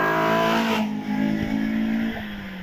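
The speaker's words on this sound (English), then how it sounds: "Roger Legg now in the Sigma powered Caterham 7." Sigma powered Caterham 7 racing at a British hillclimb, its engine revving hard and loud close by, then dropping in pitch as it shifts and pulls away.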